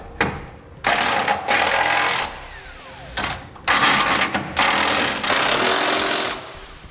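A socket tool tightens 12mm bolts on fifth wheel frame brackets of a Ram truck, sounding as several loud bursts of rapid mechanical rattling separated by short pauses, close to the microphone.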